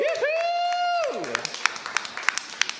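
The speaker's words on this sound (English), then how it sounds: "let's get a round of applause for Calvin" Scattered, sparse clapping from a small crowd at a combat robot competition trophy presentation. It comes in after a long, sung whoop from a voice, with distinct individual claps spaced unevenly.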